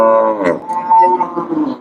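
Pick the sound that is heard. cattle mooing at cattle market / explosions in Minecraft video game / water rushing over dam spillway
cattle mooing at cattle market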